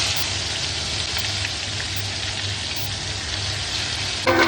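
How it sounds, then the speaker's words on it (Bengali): Dried red chillies and whole cumin seeds tempering in hot mustard oil for a vegetable dish, a steady dense sizzle and crackle close by with no talk, a brief sharper spatter near the end. "সবজির জন্য একটু সরষের তেল দিচ্ছি। শুকনো লঙ্কা ফোড়ন দিলাম, একটু গোটা জিরে দিচ্ছি"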